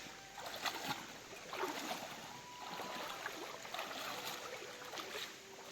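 Feet wade through knee-deep, cool water of the Narmada river, making a soft, steady run of sloshing splashes with each stride, fairly faint and close.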